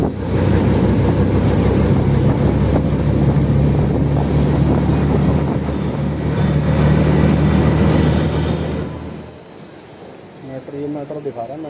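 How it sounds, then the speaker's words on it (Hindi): Metro train arriving slowly at a station, a steady low rumble and rolling noise that holds for several seconds and then fades out, with a voice talking toward the end. "मेट्रो दिखा रहा है, मेट्रो ऐसे आते हैं धीरे धीरे"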